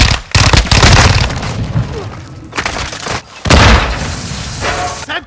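A Semtex grenade exploding in Call of Duty: Modern Warfare II multiplayer, loud booming blasts and gunfire bursts in two heavy waves with brief quiet gaps, voices mixed into the chaos.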